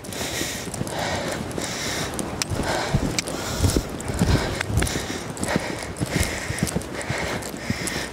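A horse moving out across country, hooves clip-clopping in a quick, uneven rhythm with loud thuds close by, alongside some snorting breaths and no talking.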